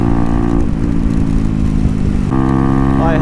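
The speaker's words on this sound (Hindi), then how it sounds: "बारिश में भी अपनी बाइक की आवाज़ क्या ही शानदार आ रही है।" A Bajaj Pulsar NS125 motorcycle fitted with an SC Project exhaust rides through rain, its loud engine holding a steady drone before the revs rise near the end.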